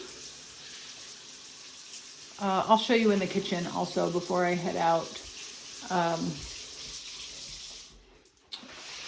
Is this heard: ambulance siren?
no